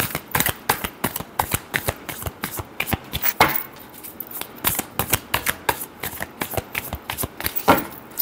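Tarot cards being shuffled by hand, a rapid series of crisp riffling flicks and slaps repeating close up throughout, with no talking.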